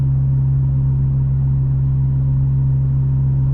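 A 2021 Honda Civic Type R driving, heard from inside the cabin as a loud, steady low engine drone and road hum, even and unbroken for a few seconds with no talking.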